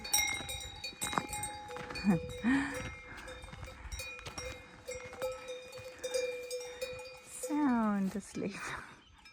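Cowbells clank and clink irregularly from cows resting on the Hörnle mountain pasture in Bavaria at dawn, some near and some farther off, with a few faint animal calls and birdsong around them.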